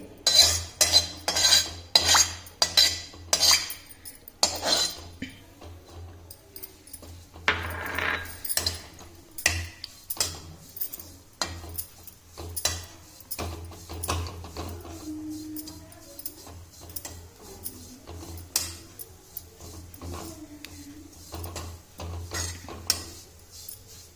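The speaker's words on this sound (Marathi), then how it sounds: "असं गुलाबीसर खोबरं भाजून घ्यायचं आहे आपल्याला।" Grated coconut roasting in a little oil for a sesame and peanut chutney, a metal spoon clanking and scraping steadily against the pan in close, irregular bursts with a soft sizzle underneath.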